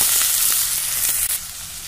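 Paneer and vegetables for veg biryani frying in a pan, a steady close crackling sizzle with a few brief pops and no voices.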